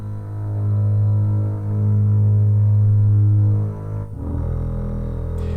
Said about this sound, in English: the bass side of things, from this virtual instrument in Logic of a bowed double bass